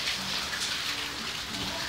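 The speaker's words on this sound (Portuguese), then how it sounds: "De setembro eu gosto de chuva." Rain falls steadily as a dense, even hiss of drops hitting surfaces, close and constant throughout, with no voices.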